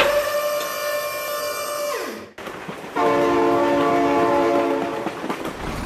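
A train in the BeamNG Drive video game sounds a loud, sustained multi-tone horn that drops in pitch as it passes. After a brief cut the horn blares again over rumbling wheels, close and loud.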